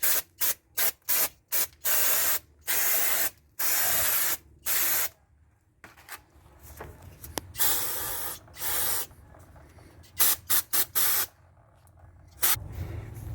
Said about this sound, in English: Using a brake cleaner, you can clean it.